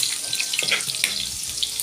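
Liquid poured into a hot pan of sautéing squid for adobong pusit: a close, hissing, splashy pour with crackling sizzle, heard alone for about two seconds.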